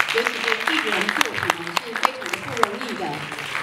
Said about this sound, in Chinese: 我请各位用热烈的掌声来恭喜。